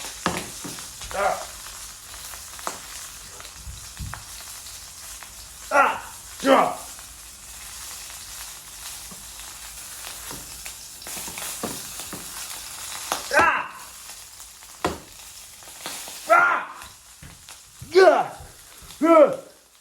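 Oil and sausage sizzle steadily in a frying pan, a continuous crackling hiss close by, with someone talking intermittently over it.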